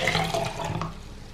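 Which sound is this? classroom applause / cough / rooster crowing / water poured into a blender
water poured into a blender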